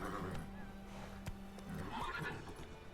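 Horse in The Witcher 3 whinnying with a drawn-out neigh, close and fairly clear, with a few hoof clops and game ambience around it.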